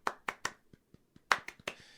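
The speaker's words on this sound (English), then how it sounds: "A little golf clap for you." A light, polite golf clap: a few quick hand claps, then softer taps, then another short burst of claps, all close and fairly quiet.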